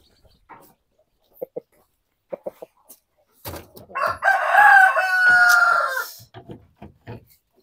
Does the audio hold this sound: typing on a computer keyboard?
no